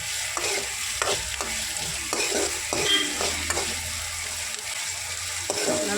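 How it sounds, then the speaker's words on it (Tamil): Chopped onions with fennel and curry leaves sizzle steadily in a hot pan, with a spoon scraping and stirring in repeated strokes through the constant frying hiss; no voices. "கொஞ்சம் கண்ணாடி பதத்துக்கு வதக்கிக்கோங்க"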